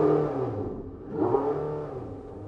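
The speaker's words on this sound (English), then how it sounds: "you turn the button to sport, and the engine fires" A Porsche 918 hybrid's engine fires up in sport mode, a loud mid-pitched bark that dips briefly and then swells back into a steady, close revving roar.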